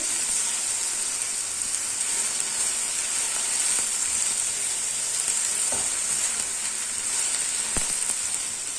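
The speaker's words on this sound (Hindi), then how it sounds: "अच्छी तरह हिला हिला के इन्हें फ्राई करना है ताकि सारी एक जैसी फ्राई हो।" Okra frying in a pan, giving a dense, even, hissing sizzle throughout with a couple of faint utensil clicks near the end.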